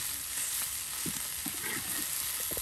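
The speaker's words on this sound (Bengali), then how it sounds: "এরপর পেঁয়াজ রসুন মরিচ সব তেলে ভেজে নিয়ে এই যে দেখুন কত সুন্দর করে" Bottle gourd greens frying in oil with onion, garlic and chili in a village kitchen, a continuous close sizzle with a few stirring knocks and scrapes, no talking.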